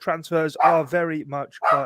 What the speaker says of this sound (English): Apologies for the barking dog in the background.